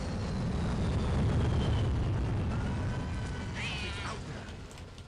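A cat meows in the shooter game Aliens versus Predator 2, one wavering mid-length yowl rising above a steady loud droning ambient rumble.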